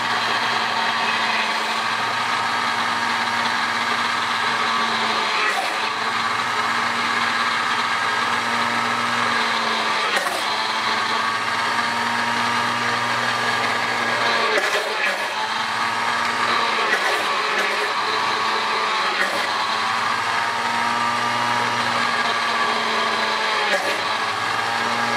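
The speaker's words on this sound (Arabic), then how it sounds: "دابا غادي نخدم المولينكس" A Moulinex blender whirs steadily and loudly for the whole stretch while making eggless mayonnaise, a constant motor drone with slight pitch wobbles as the mixture thickens, close to the listener.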